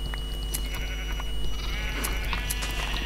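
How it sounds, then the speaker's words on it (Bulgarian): Sheep bleating in Minecraft survival mode during wool shearing, a steady game soundtrack with a couple of short, fairly loud bleats rising over it and no talking. "Овците според мен са най-полезни в Майнкрафт, защото дават вълна."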